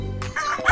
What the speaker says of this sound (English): Cock-a-doodle-doo, crowed the rooster.